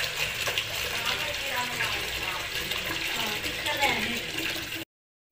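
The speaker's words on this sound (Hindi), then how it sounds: "अब हम चावल बॉईल करने के लिए लेंगे थोड़ा सा पानी जी।" Water poured into a cooking pot for boiling rice, a continuous splashing gush heard close for about five seconds before stopping abruptly, with faint talk in the background.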